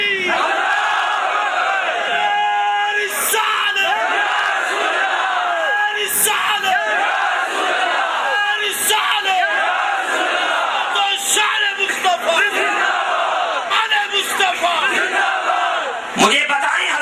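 A large crowd at a religious speech roaring a chanted slogan response in unison, loud sustained massed shouting in repeated waves that fills the whole span, with sharp peaks as voices surge.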